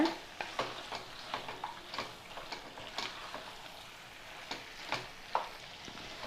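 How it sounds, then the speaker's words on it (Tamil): Half a kilo of chicken is stirred into masala in a pan for Pallipalayam chicken, a quiet sizzle under repeated light ticking and scraping strokes of a spoon, close and fairly soft. "சிக்கனை சேர்த்துட்டு நல்லா இந்த மசாலாவில் கலந்து விடுங்க."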